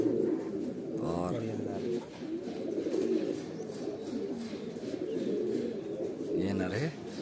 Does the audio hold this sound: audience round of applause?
no